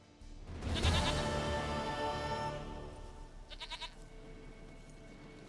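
A goat in The Witcher III bleats in a long, wavering cry, followed by a shorter quivering bleat, close and fairly clear.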